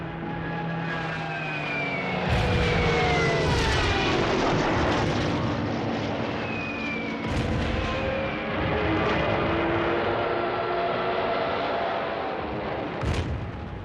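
German Stuka dive bombers attacking in World War II archival footage, with droning aircraft engines, falling whines and sharp explosive bursts in a loud, dense continuous mix.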